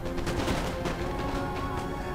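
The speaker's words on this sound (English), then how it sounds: "now we're just going to exchange gunfire for a bit" Musket volleys traded between infantry lines in Napoleon: Total War, a dense, continuous crackle of overlapping shots forming a steady rumbling roar with no speech.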